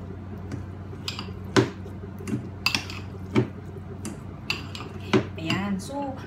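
Minced pork is mixed by hand in a bowl with a utensil, giving scattered clinks and scrapes against the bowl at an irregular pace over a low steady background hum.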